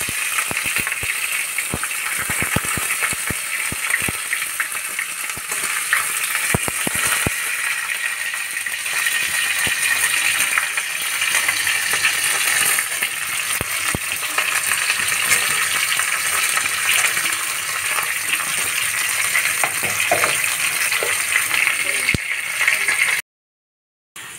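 Cauliflower and potato sizzle steadily in hot oil tempered with cumin powder, cardamom and cinnamon, a dense, continuous frying hiss that runs close and loud with faint stirring scrapes and no voices, cutting off briefly near the end.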